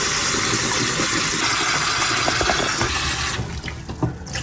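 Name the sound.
cold water stream pouring into pot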